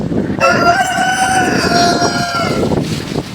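Chickens and a rooster on a free-range poultry farm, with a loud drawn-out crow ringing close over a busy background of clucking fowl, without any talk.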